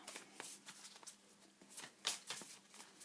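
Tarot cards shuffled by hand in a quiet room, a run of soft riffling flicks and taps with one sharper snap near the middle.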